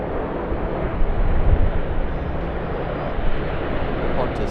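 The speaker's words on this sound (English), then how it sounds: "Qantas 737-800." A Qantas Boeing 737-800 at Sydney Airport makes a steady, broad jet roar that holds for the whole stretch with slight swells, and faint voices sit under the engine noise.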